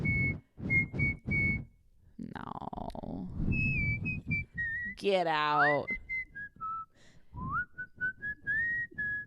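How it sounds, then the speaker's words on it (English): A thin, high whistling tone made through the nose wavers and slides in pitch, interrupted by brief spoken remarks and a short burst of laughter. "Nose whistle is the ending."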